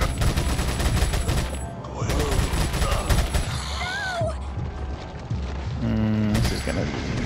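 Gunshots in Resident Evil 4, several sharp reports scattered through a busy mix of game sounds and mechanical noises, fairly loud and close.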